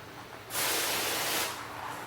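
A single sustained hiss of water sprayed from a spray bottle onto sections of a car's paint, about one second long, close and loud against a quiet background.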